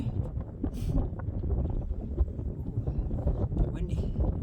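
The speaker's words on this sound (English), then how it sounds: "A bit windy." Wind buffets the microphone in a steady low rumble, with faint rustling throughout and no clear voices.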